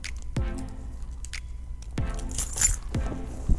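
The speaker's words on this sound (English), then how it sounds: "And then I had my keys on my key leash." Keys on a key leash jangle and clink in a few separate bursts, light metallic chinks with soft handling sounds between, close and quiet.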